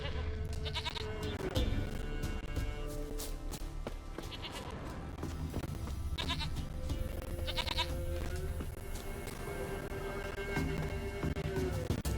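A goat bleats repeatedly in The Witcher 3 video game, with several nasal calls spaced through the clip over a steady layer of background game ambience.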